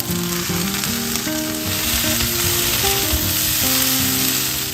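Soya chunks fry and sizzle steadily in a pan of oil, a continuous close crackling hiss with tonal background music running underneath throughout.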